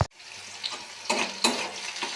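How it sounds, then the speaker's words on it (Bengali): Potatoes with salt and turmeric sizzle in a pan with garlic, with steady frying crackle and a few louder stirring bursts, close by and without talk. "আলুগুলো দিয়ে নুন হলুদ দিয়ে আমি ভেজে নেব।"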